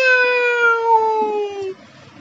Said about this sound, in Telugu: క్యాట్ వచ్చింది